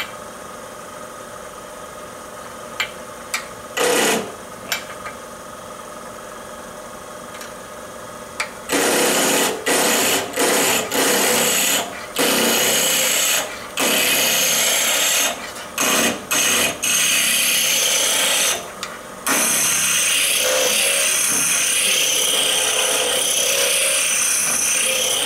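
Woodturning lathe running at 1,300 rpm while a tool turns a Christmas ornament, loud bursts of scraping and cutting that start and stop repeatedly over a steady motor hum.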